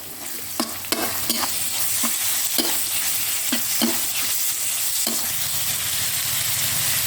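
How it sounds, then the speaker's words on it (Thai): Pork and red curry paste stir-fry in hot oil, a loud continuous sizzle broken by repeated scraping strokes of a spatula against the pan, close up with no voices. "ผัดหมูกับพริกแกงให้เข้ากันจนหมูสุกได้ที่ครับ"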